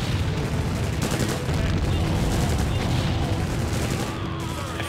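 Machine gunners in the real-time strategy game Empire Earth fire in a dense, continuous rattle of gunfire layered with booms, loud and unbroken throughout.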